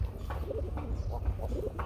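A male pigeon coos repeatedly in low, soft, rhythmic bursts, close by, over a quiet murmuring background.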